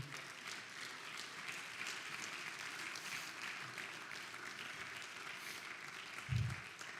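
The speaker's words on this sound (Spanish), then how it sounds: "Dele un aplauso al Señor" A church congregation applauds the Lord during a service in Houston, a long, even roar of many hands clapping that stays steady throughout, with a brief low thump near the end.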